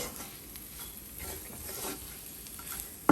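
Spice powders of turmeric, coriander, chili and masala stirred into Kerala-style goat curry in a pan, a soft steady scraping and faint sizzle throughout, ending in a brief sharp clack of the utensil against the pan.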